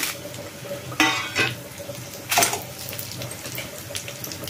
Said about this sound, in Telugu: ఆయిల్ కొద్దిగా వేడెక్కిందండి. ఏవైతే మనం దినుసులు తీసుకున్నామో ధనియాలు, జీలకర్ర, మెంతులు ఇవన్నీ వేసేసుకుంటాము.